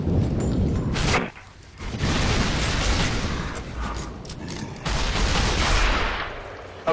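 Heavy gunfire in Gears of War, loud and continuous: dense bursts of shots and booms that cut out briefly for a moment, then return just as thick, with no talk over it.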